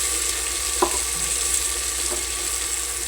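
Ginger-garlic paste and turmeric sizzle in a hot pan with a steady frying hiss, while a couple of soft stirring scrapes sound close by.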